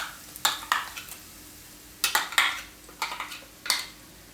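Yogurt spice mixture tipped into cooked onions in a cooking pan for paneer toofani, with several scattered clinks and scrapes of a spoon against the pan and faint background hiss, no talk.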